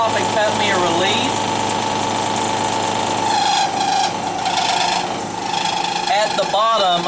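A Mori lathe cuts a relief into metal, giving a steady rasping scrape over a constant motor hum and whine, with a voice heard over the machining.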